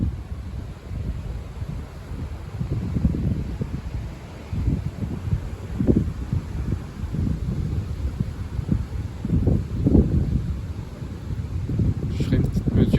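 Strong gusts from storm Eowyn buffet the microphone outdoors, producing repeated low, rumbling bursts that swell and fade over a constant airy hiss.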